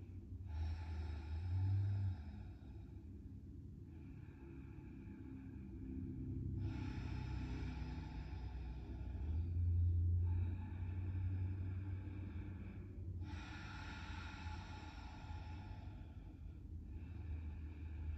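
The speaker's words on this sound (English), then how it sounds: "5 big breaths here." Slow, deep breathing during hatha yoga practice, long audible inhales and exhales repeating at an even pace over a low steady background hum, no talking.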